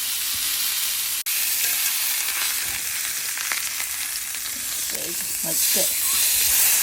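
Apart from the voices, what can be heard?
chuck roast searing in a cast iron pan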